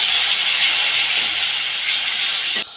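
A little water poured onto hot, well-fried spices in a pan bursts into a loud, steady steam hiss that cuts off sharply near the end.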